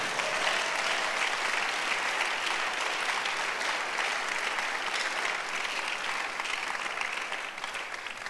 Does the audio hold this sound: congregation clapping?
yes